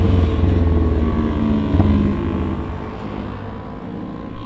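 Motorbikes race past during a road race, a loud continuous engine roar that swells briefly near the middle and then eases, with wind buffeting the microphone and no talk.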